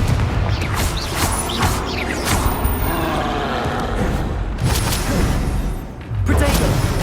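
Confringo fire blast spells in Hogwarts Legacy go off as a series of loud, booming bursts over busy game combat noise, with a heavy impact near the end.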